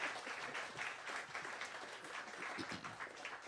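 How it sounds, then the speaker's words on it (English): Applause for a dancer at a jazz session rises as a steady, moderately close wash of many hands clapping, with no voices over it. "Give her one more round of applause."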